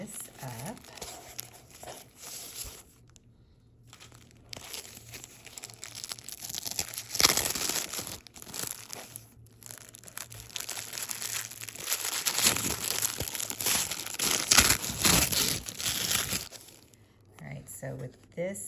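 Paper crinkles, tears and rustles as a beautifully wrapped package of Trollbeads is opened, the crumpling close and irregular, swelling in longer bursts toward the end with brief pauses between handfuls.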